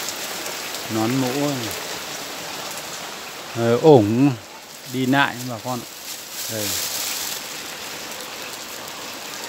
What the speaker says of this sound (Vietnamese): Mưa rất to bà con.